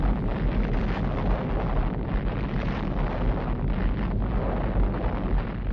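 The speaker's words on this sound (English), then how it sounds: "Three different cameras recorded from 6 miles away these views of the most concentrated release of explosive energy in the history of mankind." Archival recording of the first nuclear bomb test explosion, heard from miles away as a continuous, heavy, rumbling roar that stays loud and dense without a break, with no voices.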